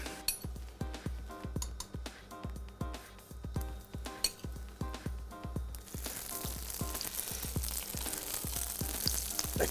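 Tuna samosas pan-fry in olive oil, a steady sizzle under repeated sharp clinks and taps of a utensil against the pan, the frying hiss swelling louder in the second half.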